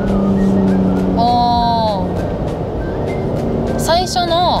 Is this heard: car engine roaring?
yes